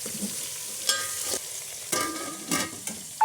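Salted drumstick pieces stirred in a pan, with a soft background sizzle broken by several scraping spoon strokes at irregular intervals, close and fairly quiet.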